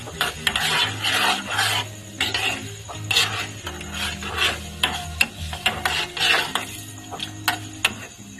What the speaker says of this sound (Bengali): ওভেনের আঁচটা একদম লোতে রেখে আমি বেশ কিছুক্ষণ এগুলোকে ফুটিয়ে নিচ্ছি